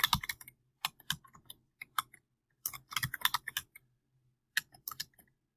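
Keys clatter on a computer keyboard as a username and password are typed, coming in quick irregular bursts of clicks with short pauses between them, close and fairly quiet.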